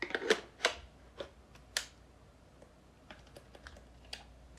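Sharp, irregular clicks from a loose part on a SmallRig V-mount battery plate fitted to a camera, a few louder snaps early on followed by fainter, scattered ticks, close and with no voices.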